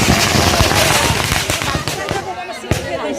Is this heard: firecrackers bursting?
yes